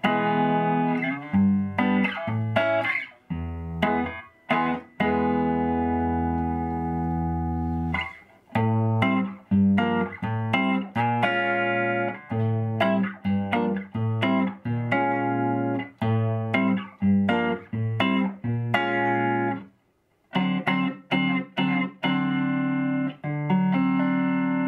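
Electric guitar played through a Music Man 212HD amp with the reverb turned down, a string of loud, plucked notes and chords with sharp attacks, short pauses and ringing sustain, no voices.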